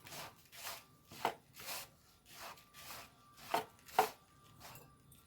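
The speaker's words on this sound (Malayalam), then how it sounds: "കുറച്ച് കുറച്ച് വെള്ളം ഒഴിച്ചിട്ട് കുഴച്ചെടുക്കാം" Soft, irregular squishing and pressing strokes of dried cassava flour and grated coconut dough worked by hand, repeating in a loose rhythm with a few sharper slaps, close up and no talking.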